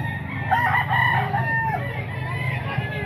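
A rooster belonging to a chicken seller crows once, long and wavering, close by over a steady crowd murmur, with a fainter clucking call afterward.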